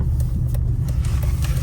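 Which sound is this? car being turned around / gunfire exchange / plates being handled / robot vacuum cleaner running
car being turned around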